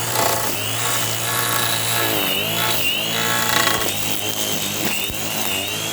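DeWalt 20V cordless weed wacker fitted with rubber blades, running loud and steady with a high whine, its pitch sliding and wavering as the blades strike grass.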